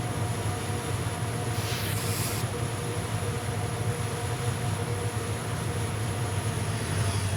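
A Union Pacific GP50 diesel locomotive running on Donner Pass in Train Simulator, giving a steady, droning engine rumble with rail noise, continuous and fairly quiet, with no talk over it.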